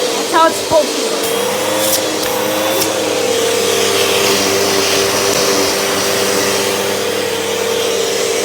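A household vacuum cleaner from a collection runs with its brush on, a loud continuous whine with a steady motor tone and a few clunks at the start.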